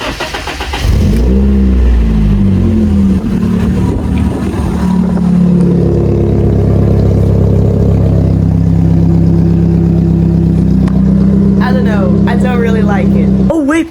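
A BMW E36 car engine revs loudly through its exhaust, climbing and holding a deep droning roar, with a voice speaking briefly near the end.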